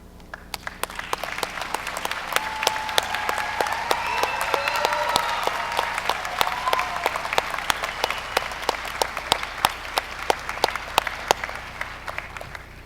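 An audience at a law school graduation ceremony applauds for honors graduates, with sustained clapping from many hands swelling and then tapering off over about thirteen seconds, with no speech over it.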